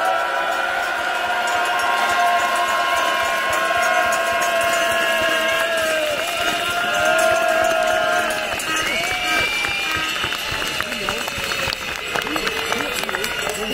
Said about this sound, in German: Deswegen erstmal jetzt nochmal einen richtig lauten Applaus